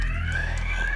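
A fire alarm in a bank sounds as a continuous, loud, steady electronic tone with a low buzzing hum underneath, lasting the full second without a break.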